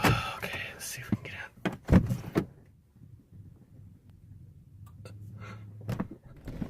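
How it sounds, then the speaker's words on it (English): A car door frozen shut in a heavy snowstorm is pushed and forced, giving several close thumps and creaks, followed by a low rumbling hum, with people talking over the start. "Oh, the door's frozen shut."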